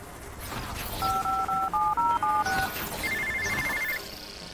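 Phone in the video game inFAMOUS First Light, a run of electronic dial-style tones followed by a brief higher ring pattern, clear and prominent over game ambience.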